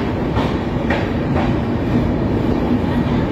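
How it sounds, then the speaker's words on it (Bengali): Onboard the Mithila Express leaving Jhajha Junction at night: a steady close rumble of wheels on track with a few soft rhythmic clacks, loud and continuous with no voices. "Train departs from ঝাঁসিডি junction."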